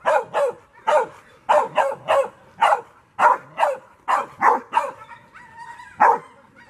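Hunting pups baying at a hog in a bay pen, a steady run of loud, close barks and yips in rapid rhythmic bursts, with a brief whine near the end.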